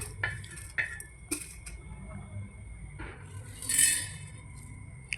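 Coriander seeds and whole spices roast in a metal pan for South Indian rasam, with scattered clinks and scrapes of a stirring spoon against the pan over a low background hiss, some louder knocks standing out.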